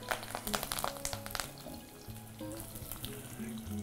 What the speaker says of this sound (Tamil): இப்போ என்ன சூடாகிடுச்சு, இதில் சோம்பு, கருவேப்பிலை, வெங்காயம்